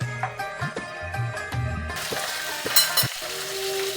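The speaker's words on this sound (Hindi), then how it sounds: "इस ऑयल में मैं पहले चिकन को कर लूँगी फ्राई" Chicken pieces go into a shallow pool of hot oil in a pan, with clinking and tonal bumps early on giving way to a brighter, steady sizzle that grows louder midway.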